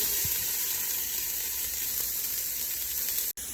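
Chopped onions and small pieces of sausage sautéing in hot oil in a pot for vegan jambalaya, giving a steady, dense, close hiss that runs unbroken and cuts off briefly near the end, no voices.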